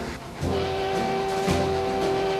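A steam locomotive rumbles steadily with a sustained steam whistle tone held over the low mechanical drone of the engine.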